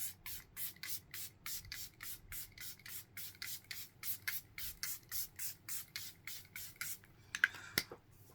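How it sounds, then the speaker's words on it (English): A One Size Powder Melt Glass setting spray is misted onto a face as makeup, giving a long, steady run of about twenty quick, close, even pumps, then a few softer rustles at the end. "That was the One Size Powder Melt Glass Setting Spray."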